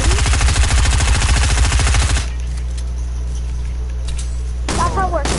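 Rapid automatic gunfire in a video game, a loud sustained burst of close shots that stops abruptly, followed by a quieter stretch and a short resumption at the end.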